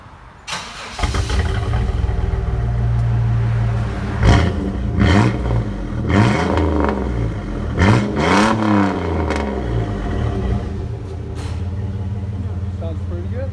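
A 1998 GMC Sonoma pickup with a 4.3L V6 and Flowmaster Super 10 exhaust starts up, then idles with a deep, steady rumble broken by several sharp revs that climb and fall back. The truck is close and loud, and a voice comes in briefly.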